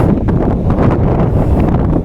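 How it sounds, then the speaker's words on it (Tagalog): Cold, strong wind in Reykjavik, Iceland buffets the microphone in a loud, continuous low roar with gusty surges throughout. "Ay, lakas ng hangin."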